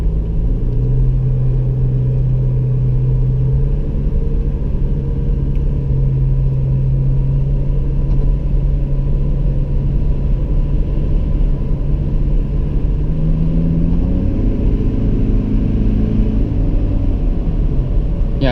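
A 2018 Toyota Fortuner's engine drones loudly from inside the cabin while driving in sixth gear, a steady low rumble with engine tones that hold, dip as RPM drops, then climb again.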